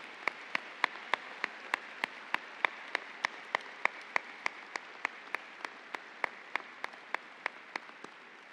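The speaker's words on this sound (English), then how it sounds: "let's give them a round of applause for their efforts in helping build the foundation" A single pair of hands clapping at a commencement ceremony, a steady, even rhythm of sharp, close claps at roughly three per second over a quiet background, with no voices.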